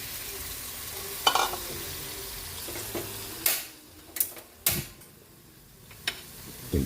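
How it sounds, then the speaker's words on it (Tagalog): Pork steak frying in a pan, a steady sizzle with scattered sharp clatters and scrapes of a utensil against the pan, and a few louder knocks near the end. "Naprito na po natin yung ating pork steak."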